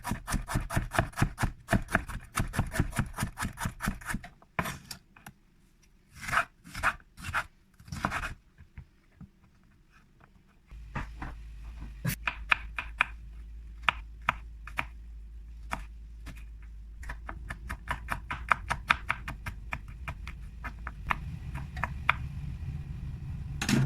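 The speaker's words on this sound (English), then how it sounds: "I will be chopping up some vegetables to prepare for the sauce." Rapid knife taps on a cutting board in uneven bursts, a short pause, then more steady chopping with a low hum underneath.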